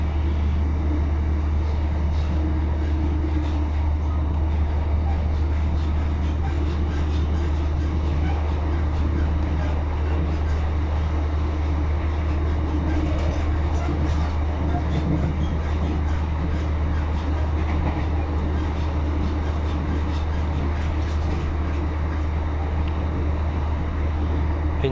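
Steady onboard rumble of an East Midlands Railway Class 156 diesel unit, 156411, travelling toward Lincoln, with a constant low engine drone and rail noise running without pause throughout.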